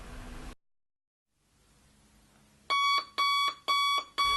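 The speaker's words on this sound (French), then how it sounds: "Regardez le réveil. Il sonne à 16h31" An alarm clock rings after a brief hiss and near silence: four loud, evenly spaced electronic beeping bursts, close and alone.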